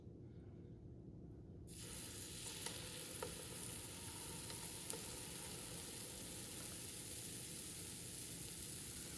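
Waffle batter poured onto a hot waffle maker for savory waffles, a steady sizzling hiss that begins abruptly after a quiet moment and continues evenly, with faint scraping touches.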